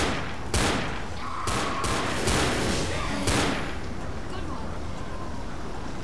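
Rapid gunfire bursts from Left 4 Dead's No Mercy hospital level, several sharp loud volleys over a dense noisy game background, with talk over the action.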